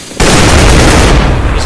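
Grenade explosion in a competitive bomb-planting video game: a sudden loud boom erupts and a dense, roaring blast rumble fills the rest of the moment at full volume.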